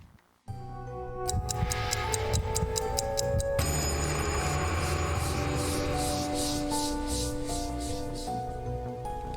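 Eerie ringing in the Spirit Hunter: NG video game, with rapid repeated bell-like chimes over sustained tonal drones, loud and continuous, in a soundtrack with no voices.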